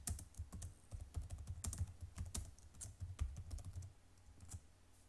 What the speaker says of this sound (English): I'm going to click the box and type in a welcome message.